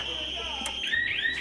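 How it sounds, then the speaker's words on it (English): A fire-alarm-style siren wails and rises during a tense robbery sketch on a comedy variety show, loud and steady, with voices talking over it. "Just press the alarm there, Miss Linda."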